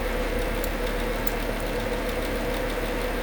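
Simulated aircraft engine idling at 1,000 RPM in the X-Plane flight simulator, a steady low droning hum with a constant vibrating throb and no change in pitch.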